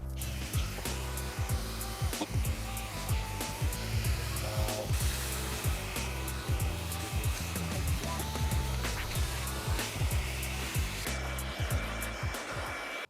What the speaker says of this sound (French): Ponçage du ventail complètement terminé